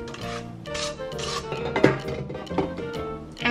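Stand mixer beaters scraping and rasping against the sides of a mixing bowl of Basque cheesecake batter, an uneven rubbing churn with occasional clinks, heard alone.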